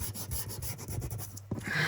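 A small hand sander rubs along the edges of a large journaling card in quick, short back-and-forth strokes, close and fairly quiet, ending with a brief pause and a final scrape.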